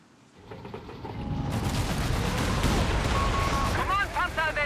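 Gunfire and rocket barrages from Company of Heroes 3, including anti-tank guns and Nebelwerfer rockets, swell into a dense, sustained battle roar, with whistling rocket salvos near the end.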